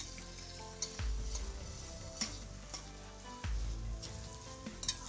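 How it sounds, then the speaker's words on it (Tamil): Medium onions with garlic sauté in a pan for salmon puttu, giving a quiet, steady sizzle broken by a few stirring clinks and scrapes, with low rumbling bursts in between and no talk. "வெங்காயம் நல்லா வதங்கட்டும்."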